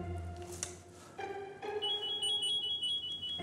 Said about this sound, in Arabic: الله ده التليفون بيرن